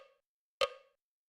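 Metronome click from music software set to 80 BPM; a single sharp, bright tick rings out alone with a short decay, the tail of a previous tick just fading at the start.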